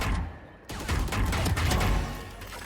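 Gunfire in a first-person shooter video game: a dense, loud burst of rapid shots and impacts filling the moment, with no talk over it.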